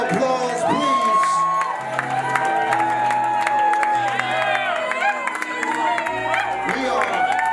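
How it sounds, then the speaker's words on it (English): Wedding guests cheer, whoop and applaud loudly and continuously at a wedding celebration, a dense crowd roar with shouts and music-like tones layered throughout. "Give our bride and groom another loud round of applause, please."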